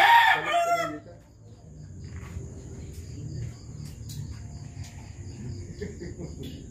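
A large gamefowl rooster on a game farm crows loudly at the start, followed by a steady hum of crickets and faint background noise.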